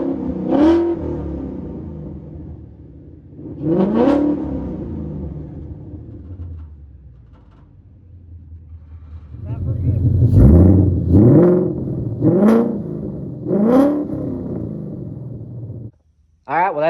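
Ford Mustang Coyote V8 with Pypes long tube headers revs hard, first two single blips, then a quick series of four or five loud throttle stabs over a rumbling idle.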